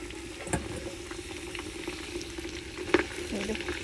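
Pig trotters fry in a pan for pickle, giving a steady low sizzle with a few sharper stirring clacks, moderately near and fairly quiet, with no talking.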